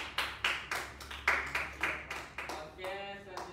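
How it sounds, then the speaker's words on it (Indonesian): A classroom of students claps in a loose, uneven burst of about a dozen distinct claps, moderately close, fading into scattered hand taps with a murmur of voices underneath. "Tepuk tangan buat kelas ini"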